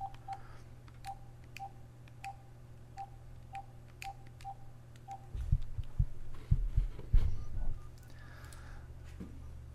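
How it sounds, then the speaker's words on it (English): A telephone dialed by keypad: a run of about ten evenly spaced short beeps over a low steady hum, followed by rustling and thumping handling noise. "You have to watch me dial a phone"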